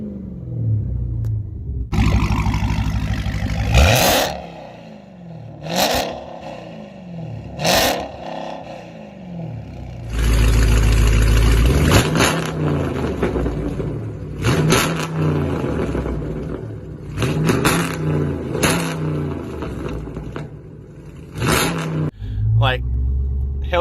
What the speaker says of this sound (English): Just revving it.